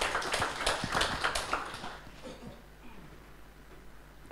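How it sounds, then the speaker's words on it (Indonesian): A church congregation at a Sunday service claps together in a lively burst that fades away after a couple of seconds, leaving a quiet room. "kita berikan tepuk tangan untuk Tuhan"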